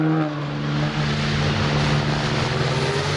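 Rally car engine at speed during a Scandinavian rally, a loud steady droning buzz with a strong low tone that resembles a helicopter, sustained throughout without talk.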